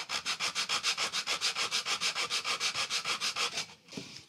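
Hand sanding the inside of a wooden dovetailed box with a sheet of sandpaper wrapped around a block of wood: about twenty quick, even back-and-forth rasping strokes, close and steady, then stopping.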